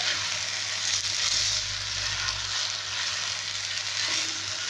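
Rice with chicken liver and gizzards fries in a pot with salt, cumin and black pepper while being stirred, giving a loud, steady hissing sizzle that holds throughout without pause.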